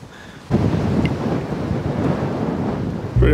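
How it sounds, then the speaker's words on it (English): A sudden gust of strong wind buffets the microphone, a loud, rumbling roar that holds steady for a few seconds. "Pretty windy."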